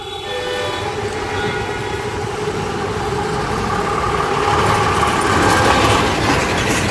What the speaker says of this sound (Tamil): மெட்ரோ போயிட்டு இருக்கு பாருங்க